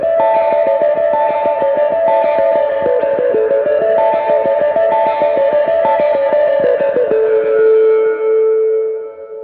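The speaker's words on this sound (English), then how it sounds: "I am running a spring reverb with a delay, and then I'm running my light speed on." Electric guitar intro played on the neck pickup with tone rolled off, through spring reverb and delay: a steady run of clean picked notes with echoing tails, loud and alone, fading out at the end.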